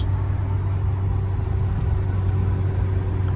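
Steady low rumble and broadband whooshing from inside a moving BMW E36 with worn door seals, constant and fairly loud with no talking.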